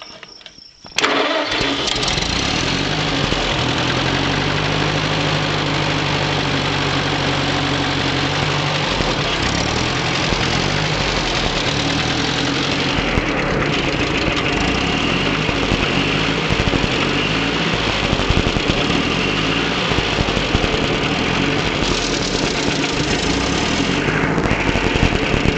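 A Minneapolis Moline GTA tractor, converted from hand throttle to gas pedal, starts up and settles into a loud, steady close-up idle that holds for the rest of the recording, with slight shifts in engine speed.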